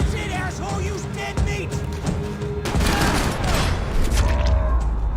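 Gunfire in the video game Max Payne 3 rings out as a fast volley of shots, loud and close, with booming blasts building in the second half over game music and ambience.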